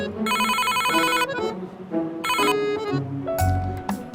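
A telephone ringtone plays loudly in repeated electronic bursts, followed by a few other tonal beeps and a brief low thump.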